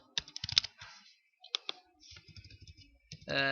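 Keys on a computer keyboard are pressed in quick bursts of close, crisp clicks, separated by short pauses, with a voice audible at times.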